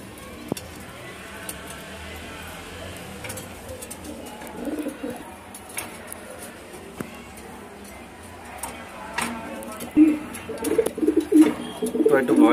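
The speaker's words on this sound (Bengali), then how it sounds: "হাই ফ্লেয়ার কবুতর" High flyer pigeons coo in a loft, with soft, low murmurs that grow louder and busier near the end, mixed with light rustles and scattered noise from the handler.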